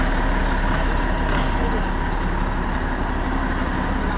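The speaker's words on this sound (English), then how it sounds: "I have a bus on my right, that's what's making all that noise." A city bus beside the listener on Fifth Avenue in New York makes a constant loud low engine rumble and roar that fills the whole stretch, with a voice faintly underneath.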